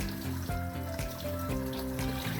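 Cold tap water runs steadily over freshly harvested broccoli in a sink, a continuous close splashing flow with no talk over it.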